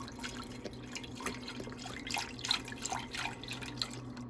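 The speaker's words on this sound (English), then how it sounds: "I got my saucepan here and I'm pouring in the chicken stock" Unsalted chicken stock pours into a saucepan in a kitchen, a quiet trickling and splashing of liquid with soft irregular drips over a low background hum.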